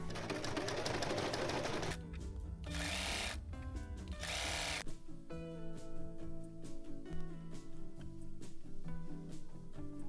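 A sewing machine runs hemming a cotton pocket in long bursts, loud and close, broken by brief pauses and handling clatter, with background music playing underneath throughout.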